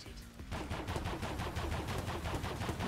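Rapid automatic nail gun fire in the Roblox shooter Overheat, a dense run of repeated shots that starts after a brief pause and continues loudly and steadily to the end.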